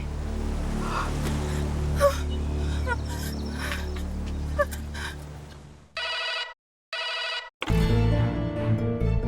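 A telephone rings in a Hindi children's fantasy TV drama, with two short electronic bursts close and clear after a stretch of background music and effects.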